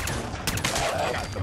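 Gunfire from Fallout 4 rattles through as a dense burst of overlapping shots, loud and close, with bright cracks near the middle of the stretch.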